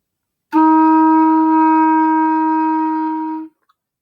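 A clarinet holds one long note for three beats: a single steady, clear tone, sustained evenly and then cut off cleanly, played alone.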